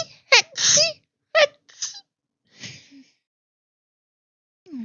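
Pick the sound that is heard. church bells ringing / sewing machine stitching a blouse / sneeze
sneeze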